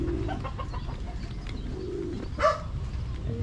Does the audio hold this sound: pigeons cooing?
yes